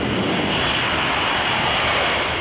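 Marine Corps F-35B fighter jet accelerating down the runway for takeoff, a loud, steady broadband engine roar that fills the whole stretch without a break and with no talk over it.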